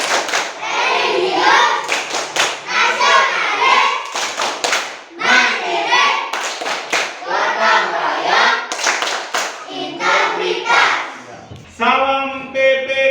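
A group of children in a school classroom performs the PPK clap routine, sharp rhythmic hand claps punctuating loud, unison chanted voices close by, ending with a held sung note.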